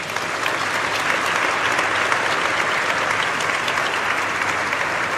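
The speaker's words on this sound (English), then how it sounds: "A big round of applause for all of them" Sustained audience applause fills the hall at a company event for Lenskart, a dense, steady wash of many hands clapping at even loudness throughout with no break.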